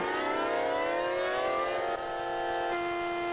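Distant civil defense siren wailing in a steady rising tone that swells and shifts pitch, played back on a video at moderate volume with no talking over it.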